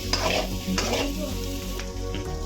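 Egg and ridge gourd fry over a high flame, a loud, close, continuous sizzle punctuated by spatula stirring and scraping against the pan.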